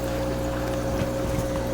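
Water churned at the surface by the output of a Fluval FX5 canister filter in an aquarium, a steady close splashing trickle with a constant low hum underneath, no talking.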